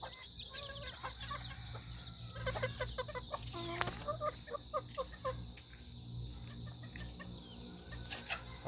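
Chickens clucking inside a small farm hut, several birds making short, repeated clucks and murmurs at close range, overlapping in an irregular chatter over a steady low background hum.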